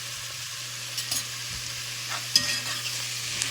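Hog jowl and onions stirred in a cast iron pan, a steady close sizzle with scraping spatula strokes and one sharper knock, set over a low steady hum.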